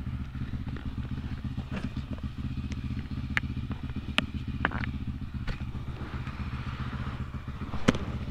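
A Husqvarna TE310R dirt bike engine runs in a steady, close, throbbing hum, with occasional light clicks and clatter over the constant drone.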